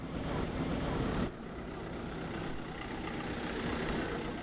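A bus engine idles at a harbour in a low, steady rumble, and it drops a little in level shortly after the start before carrying on evenly.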